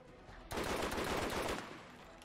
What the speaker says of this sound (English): let's use our sniper ammo on his eye